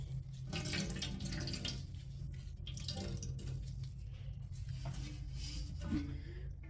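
Water runs steadily into a sink while dyed yarn is rinsed, giving a continuous close splashing hiss with soft gurgles and handling sounds throughout.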